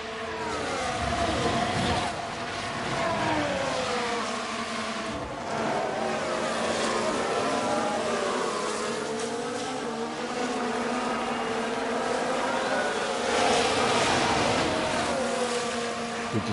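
Formula 1 race cars at Monza in the F1 Manager 23 video game drone past continuously, engine notes rising and falling as several cars sweep through, fairly loud with no talk.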